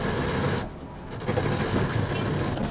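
Sewing machine stitching cloth panels together for a large DIY bag, a close continuous mechanical whirring chatter that briefly softens and then picks back up.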